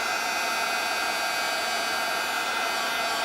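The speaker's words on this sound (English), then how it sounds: "I need my heat tool for this, so I'm going to heat it up for just a second" A heat embossing tool blows hot air in a steady, loud whoosh that runs unbroken from start to finish, with no talking over it.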